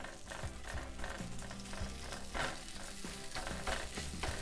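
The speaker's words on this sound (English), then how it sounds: "And I just start browning it down." Breakfast sausage sizzles steadily in a skillet while a spatula scrapes and breaks it apart, with repeated tapping and scraping strokes over a continuous close frying hiss.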